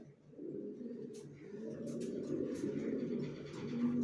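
Racer pigeons coo softly in repeated low, throaty calls, with faint background noise and occasional chirps around them.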